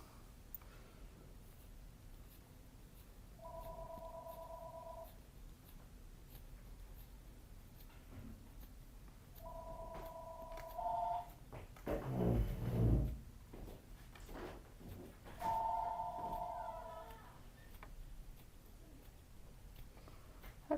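A telephone rings three times, each a short electronic warbling trill spaced several seconds apart and fairly faint, with a louder brief clatter and rustling between the second and third rings.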